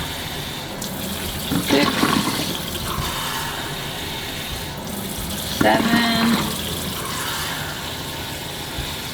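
Water pours into a big jar in two gushing bursts, with a person counting aloud over the steady splash.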